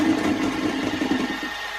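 Electric mixer beating gluten-free, lactose-free chocolate cake batter in a mixing bowl: a steady close motor hum with a low whir that eases off near the end.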